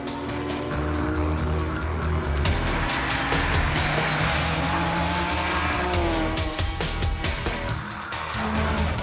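A wild modified Nissan GTR race car launches hard at the Simola hillclimb, a loud close engine roar with sharp tire squeal and rising revs through gear changes, sustained throughout with no talk.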